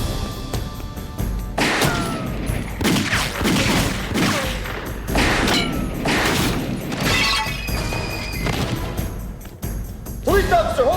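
Bursts of gunfire in a televised police drama scene, rapid cracking volleys mixed with shattering and crashing impacts, loud and chaotic throughout, with shouting voices in between.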